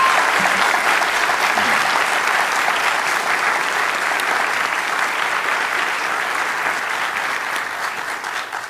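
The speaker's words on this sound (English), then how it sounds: "And one final round of applause for our debaters for the job they did tonight." A debate audience applauds at the close of the event, a dense, sustained crowd clapping that holds steady for several seconds before starting to fade at the end.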